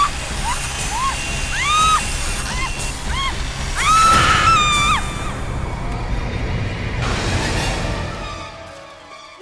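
A woman's screams rise and fall in several wavering, high cries over a noisy, rumbling background in a horror drama scene, with one longer wail near the middle.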